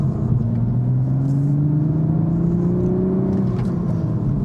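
A manual Toyota GR Supra heard from inside while driving: a steady throaty engine drone with a gentle rising blip in revs, under continuous road rumble.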